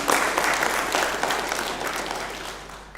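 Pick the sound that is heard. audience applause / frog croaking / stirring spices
audience applause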